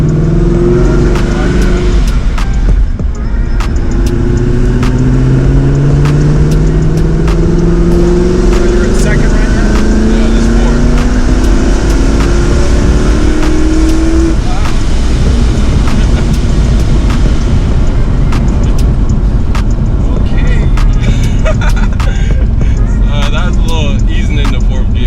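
A 1000 hp Ford Mustang with a blown third gear accelerates hard, its loud engine note rising in sweeping pulls through shifts that skip from second to fourth, close and sustained for most of the run before easing off, with voices talking inside the car.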